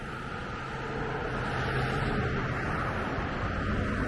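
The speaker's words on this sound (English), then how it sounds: "there goes the truckers going by and speeding." Trucks speeding along a road in a small central Maine town, heard as a steady, dense broadband roar of traffic that swells slightly and holds loud throughout, with no talk.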